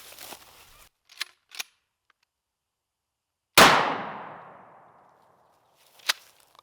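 A single loud blast from a Mossberg 12 gauge shotgun loaded with 7.5 shot cracks sharply and then rings away in a long echoing decay outdoors, with a few small clicks and handling knocks before and after.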